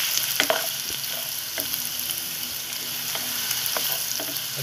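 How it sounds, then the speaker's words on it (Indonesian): Onions frying in a pan for kaldereta, a steady close hiss and sizzle with faint crackles and occasional light stirring taps, without any voices. "ilagay ang ating sibuyas. At hintayin po natin ito hanggang 30 seconds."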